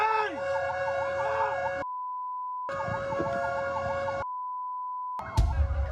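A fire truck's wailing siren cycles up and down, broken by steady horn tones in between, with a sudden burst of noise near the end.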